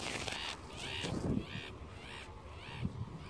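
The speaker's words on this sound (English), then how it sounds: "Oh, there's some seagulls." Several harsh, squawking seagull calls come in short bursts against steady beach background noise, moderately close.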